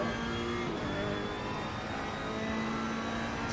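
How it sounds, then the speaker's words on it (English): Ferrari GT3 race car engine at full throttle in a racing game set at Misano, a steady loud high-revving drone with a sustained harmonic whine throughout. "Ferrari with the throttle pinned"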